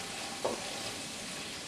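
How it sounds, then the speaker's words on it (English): Lentil cottage pie filling sizzles in a pan while a spoon stirs it, giving a steady frying hiss with a couple of brief scraping strokes, close up and without voices. "I add in some pepper. And again, the pink Himalayan salt. And give that a stir."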